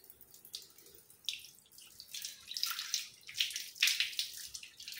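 Silver pooja vessels are rinsed under water, giving close splashing and trickling that rises and falls irregularly as the pieces are moved, with drips and sloshing growing busier toward the end.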